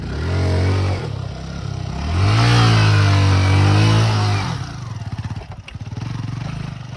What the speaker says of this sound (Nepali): हाम्रो सबै बाइक पार भइसक्यो